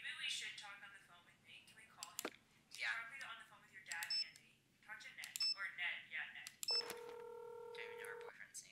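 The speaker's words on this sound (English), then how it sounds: "Maybe we should talk on the phone with Nate. Can we call him?" A phone call in a Nancy Drew video game, with voices talking before a quick run of touch-tone dialing beeps that settles into a steady, sustained tone.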